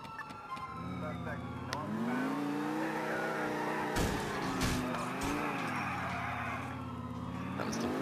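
Police car in the LCPD:FR game skidding through a sharp turn, tires squealing over a revving engine, with a couple of sharp knocks midway and a voice talking over it.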